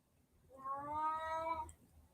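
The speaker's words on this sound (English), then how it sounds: "I don't know if you can hear my kitty or not," A pet cat gives a single drawn-out meow indoors, faint and somewhat distant, rising and falling over about a second with quiet room noise around it.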